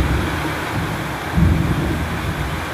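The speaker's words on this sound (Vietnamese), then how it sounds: "Trời mưa quá nên nói chuyện không nghe luôn." Heavy rain pours down outside a family home, a loud, constant roar with a low rumble that swells briefly midway, heard alone and close.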